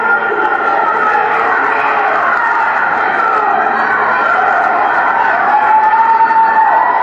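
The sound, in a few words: agitated wrestling crowd reacting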